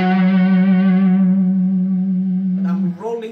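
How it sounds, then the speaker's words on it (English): A single sustained electric guitar note rings out on an amp's crunch channel with an MKF drive pedal, loud and overdriven with rich harmonics and a long decay, followed by a quieter pick attack at the end. "I go on the crunch channel. Gain at 4, and volume is at 3, and it's already loud here. Plus I'm using an MKF drive on the top of it."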